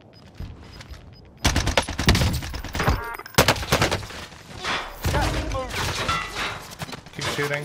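Rapid bursts of gunfire in Call of Duty: Warzone, loud and close, with repeated volleys and sharp impacts continuing almost without pause, while players talk over the shooting.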